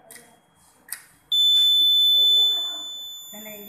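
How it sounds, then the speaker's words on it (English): A homemade fire detector model's piercing electronic buzzer alarm, set off by a lit match, sounds loudly and continuously for a couple of seconds after a few brief clicks, then fades as a voice begins. "When I lit the match, there is an indication of fire and there is a buzzer alarming."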